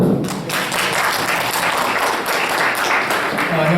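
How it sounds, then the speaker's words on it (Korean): An audience at an academic session on carbon-neutral petrochemical processes claps to welcome a professor, a close, busy patter of hands throughout the whole stretch with a few louder thumps. "신동윤 교수님께 큰 박수 부탁드립니다"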